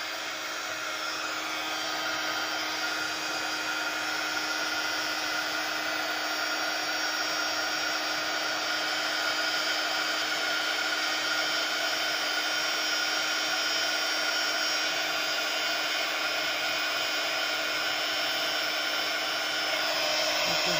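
A heat gun blows continuously for hot embossing, a steady, fairly loud whirring hiss with a constant tone that runs unbroken for about twenty seconds, no talk.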